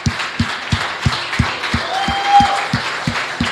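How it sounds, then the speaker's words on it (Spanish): Applause in a church service, with a congregation clapping in a strong, regular rhythmic beat, sharp evenly spaced claps over a softer crowd wash, with a faint tone drifting through the middle. "Le damos un aplauso al Señor por los hermanos de Rapel."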